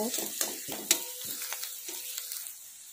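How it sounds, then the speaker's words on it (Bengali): Garlic paste frying in a pan, with a soft sizzle under a few quick scraping stirs and clinks of a spoon, close and fairly quiet, and no talk. "হাফ চামচ রসুন বাটা দিলাম, নাড়ব"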